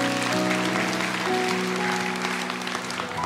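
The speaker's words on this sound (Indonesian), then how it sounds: "Kasih tepuk tangan tuh Tuhan." Church congregation applauding together, a steady wash of clapping layered over sustained organ or keyboard tones, moderately loud and continuous throughout.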